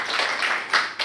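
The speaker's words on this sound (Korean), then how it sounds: "우리 한번 박수로 격려합시다." A church congregation at a Korean worship service claps briefly, a short burst of close, uneven hand claps with brief surges.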